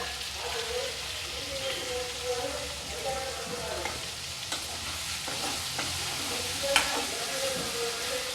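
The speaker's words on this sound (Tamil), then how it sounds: "தக்காளி நல்லா வதங்கட்டும் சாஃப்டாக வதங்கட்டும்" Chopped tomatoes salted in a pan for a horse gram tamarind curry sizzle steadily, with soft scraping stirs now and then and one brighter clink near the end. No voice is heard.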